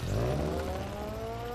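A video game car engine drones steadily with a rising pitch as it accelerates, moderately loud with a faint tire whir beneath.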